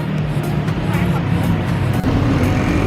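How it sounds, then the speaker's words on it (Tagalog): Dense rush-hour traffic in Bangkok, a steady loud rumble of engines and passing vehicles filling the street without a break. "Ayan guys, so Bangkok traffic. Yan, traffic na ngayong oras, rush hour."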